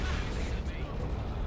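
Heavy cannon fire and artillery booms from a Dawn of War 2 3v3 battle, a dense, continuous low rumble of repeated blasts and mechanical clatter with no clear gaps, loud throughout.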